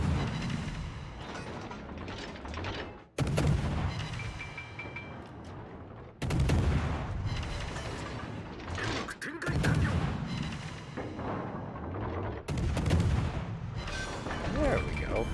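Akizuki destroyer guns firing in a naval combat video game, heavy booming salvos at roughly regular intervals with rumbling blasts between them and a voice talking over the action.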